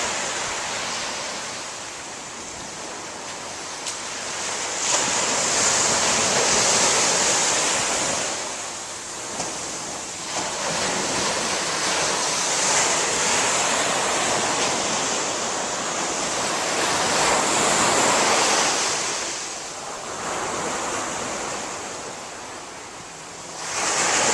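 Water waves wash steadily onto a shore, a loud broadband surf that swells and recedes in long surges, with wind noise on the microphone and no voices.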